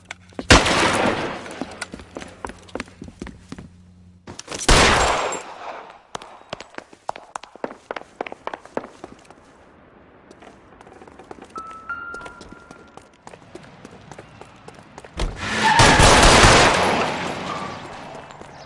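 In the L.A. Noire shootout with cops, loud bursts of gunfire erupt in several volleys, with rapid shots and sharp single cracks scattered between them and quieter stretches of footsteps and movement.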